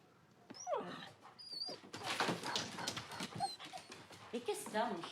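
A dog whimpers in short, high, wavering whines under and between the voices of people talking indoors, loud and close.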